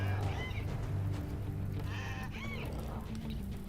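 Bleating animal cries in the RimWorld video game, a donkey braying in a few wavering calls over a steady game background, moderately close, no talk.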